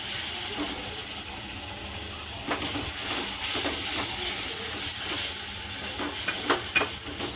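Milk is poured a little at a time into hot semolina (rava) while making modak, giving a continuous close steam hiss and bubbling sizzle with faint scraping of stirring toward the end, with no voices.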